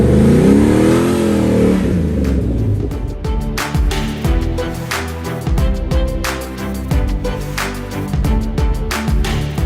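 A restored Land Rover Defender 110 with a 430-horsepower LS3 V8 and a six-speed automatic idles, then revs hard in a series of sharp blips, loud and close, the throttle rising and falling in quick bursts.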